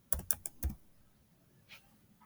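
A few quick keystrokes on a computer keyboard, close and fairly quiet: a short burst of four taps followed by a single soft click in a quiet room.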